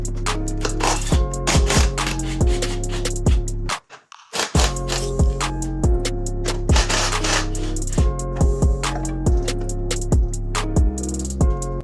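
A ratchet and socket work the front shock bolts on a BMW 335i, loud and close, with rapid, rhythmic clicking bursts that stop briefly in the middle before resuming.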